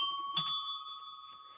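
A single bright bell chime in a princess video game, struck once with a short metallic attack and then a long, clear ringing tone that slowly fades, heard alone.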